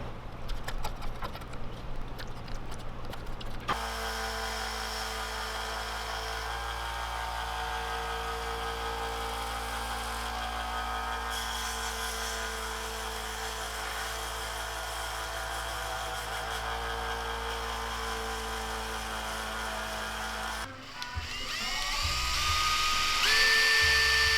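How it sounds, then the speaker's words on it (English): A rotary power tool carving fin slots into a handmade swimbait lure gives a steady, loud, high whine that runs almost unbroken for most of the clip, then shifts to rougher grinding near the end. No one speaks. "Probably my least favorite thing about lure making, carving the slots for fins."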